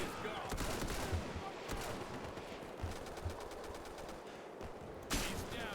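Rapid machine-gun bursts and scattered gunshots crackle in the World War II shooter Easy Red 2, moderately loud with sharp repeated reports over a dense battlefield din, some bursts sounding close and others distant.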